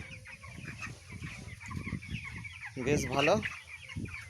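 Broiler chickens on a poultry farm cluck and chatter in a close, busy flock, with a louder burst of squawking midway, while a person speaks briefly.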